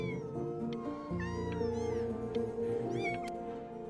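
Several cats meow and caterwaul in the Before Your Eyes video game, with overlapping, rising and falling cries close by over a steady musical backdrop, no talking heard.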